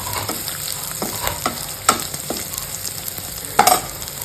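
Sesame seeds and peanuts dry-roast in a pan for a spicy papad chutney, with a soft constant crackle and several scraping stirs of a spoon against the pan, close and alone.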